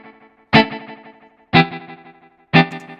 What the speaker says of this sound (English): So this now means that we've got a delay sound like this.